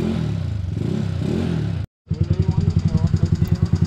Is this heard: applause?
no